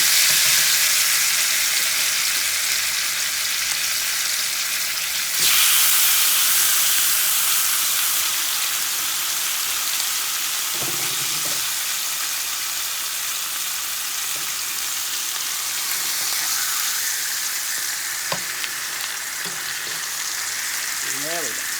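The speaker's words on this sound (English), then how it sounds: "we're gonna get our fish on in the skillet" Stuffed salmon fries in a hot skillet with a steady, bright sizzle throughout, a louder burst of spattering about a third of the way in, and a few brief clicks and soft handling sounds.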